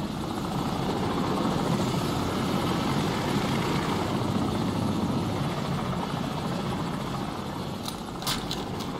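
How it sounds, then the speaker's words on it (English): Enemy helicopter in the video game Call of Duty 4: Modern Warfare, a steady loud rotor thrum and engine whine hovering close overhead for the whole stretch, a few brief sharp clicks near the end. "Enemy helicopter! Get down!"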